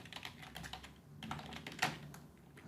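Fingers tapping out a query on a computer keyboard, an uneven run of quick close clicks with short pauses, no voice over it.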